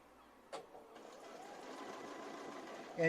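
Bernina B590 sewing machine stitching a quilt-as-you-go block, a steady mechanical whir that starts with a sharp thump and runs continuously at moderate level to the end.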